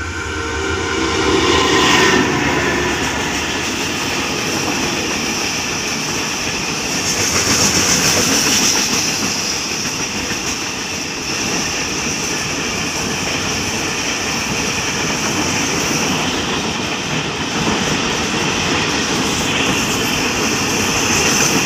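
A salt freight train hauled by a locomotive rolls past bound for Bua Yai Junction, a loud continuous roar of wheels and cars with rhythmic clatter, close and steady throughout with no talk.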